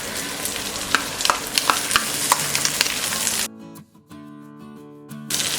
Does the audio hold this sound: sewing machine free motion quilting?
no